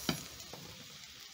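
Plantains frying in hot cooking oil in a pan give a faint, brief sizzle, with a couple of light clicks from stirring.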